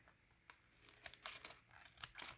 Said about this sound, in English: I'm just gonna take my scissors and trim around the edge here.